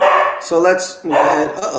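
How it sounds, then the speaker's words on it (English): A dog barks a few times in quick bursts while a person keeps talking over it. "that's my dog."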